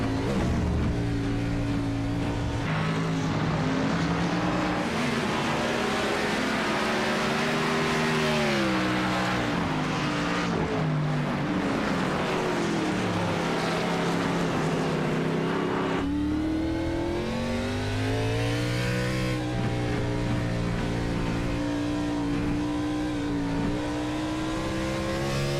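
Race cars circling a track in the iRacing sim, a dense layered engine roar that swells and shifts pitch as cars accelerate and pass, loud and unbroken for the whole stretch.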